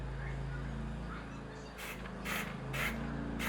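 A steady hiss of an aerosol can spraying primer runs throughout, with a few short bursts toward the end, over a low background hum.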